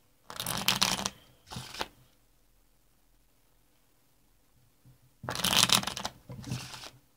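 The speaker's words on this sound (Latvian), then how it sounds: "Samaisot tā kavu." A deck of playing cards is shuffled during a rubber-band card trick, with two separate bursts of riffling clatter, each a long ruffle followed by a shorter one, close and fairly loud with quiet between.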